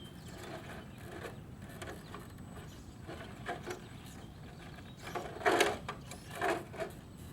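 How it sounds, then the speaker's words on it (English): A Traxxas TRX4 RC crawler truck's tires rub against its body while the motor whirs, giving irregular scraping and clicking bursts that grow louder toward the end, with no talk. "the sounds of those tires rubbing the body are great."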